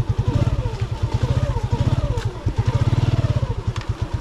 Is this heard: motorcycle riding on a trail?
yes